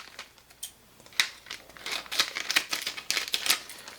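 Scissors snip and slice through crinkly plastic shrink wrap for a sublimation coffee cup, a series of sharp irregular cuts and rustles, close and clear with no talking.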